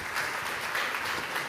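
A conference audience at the opening of a workplace safety campaign applauds to greet the next speaker, a brief, even patter of clapping in a hall, moderately quiet and steady.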